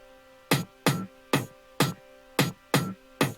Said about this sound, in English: Then we have a hi-hat loop, as well as a hat loop here, and some toms.